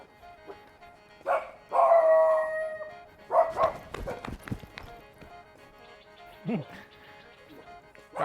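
A small dog barks and howls at Wat Tha Hin Ngom temple in Chaiyaphum, Thailand, giving a few sharp, close yelps and a drawn-out howl with someone talking in between.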